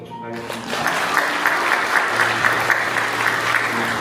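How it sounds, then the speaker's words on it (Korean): A church congregation claps to celebrate an infant baptism, a close, loud, steady burst of many hands with a sustained tone and voices underneath. "다시 한 번 더 큰 박수로 축하하겠습니다."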